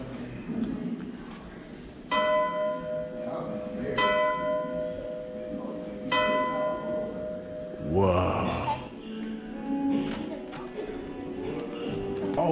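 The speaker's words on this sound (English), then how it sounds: "I think it's Elvira's deck bell" A ship's deck bell in a history museum rings with clear, sustained metallic tones, struck a few times at roughly two-second intervals amid indoor room noise and a brief voice.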